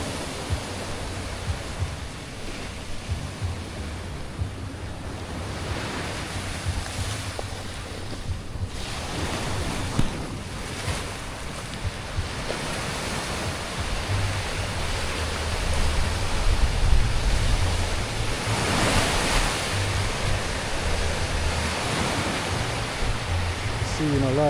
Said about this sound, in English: It's the beach out there